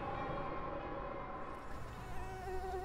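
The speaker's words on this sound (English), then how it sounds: "Well, mosquitoes, yeah." Mosquitoes buzzing steadily in the wild Kamchatka outdoors, a thin continuous drone with wavering pitch that rises and falls as insects fly close to the ear, with no talk.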